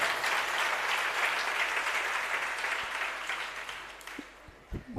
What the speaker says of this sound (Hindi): तालियां तो हमने बहुत सुन ली